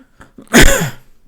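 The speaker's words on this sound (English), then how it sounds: "sorry for that coughing" A single sudden, loud cough bursts out once and breaks off quickly, with near silence around it.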